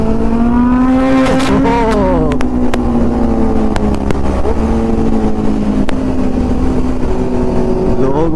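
A loud superbike engine revs and roars continuously, pitch rising and falling as throttle blips, close by and dominating throughout.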